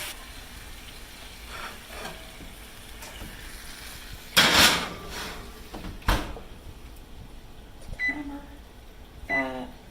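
A sharp thud of an oven door shutting, followed by a few softer clunks and faint beeps in a quiet kitchen.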